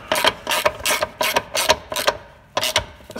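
A ratchet tightens bolts on a BMW X3 propshaft, making close, loud bursts of rapid clicking in about eight regular back-and-forth strokes.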